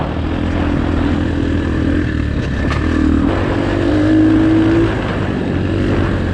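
An X-Pro Storm 250 dirt bike rides a sandy trail in Sam Houston National Forest, its engine a loud, close, continuous drone that swells slightly midway, with no talking.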